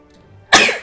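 A single sharp, explosive sneeze bursts out suddenly after a moment of near silence, close and loud.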